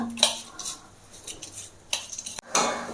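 A spoon stirring ghee through gobindobhog rice payesh in a metal pot, with scattered scrapes and clinks against the pan between quieter pauses, a sharper knock near the end, close up and without talk.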